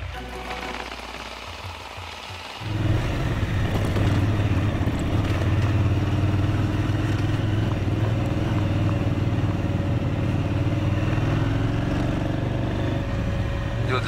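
Motorcycles climb a winding mountain road in eastern Java, their engines starting after a quieter moment and then droning steadily and loudly close by with a rattling edge for the rest of the clip.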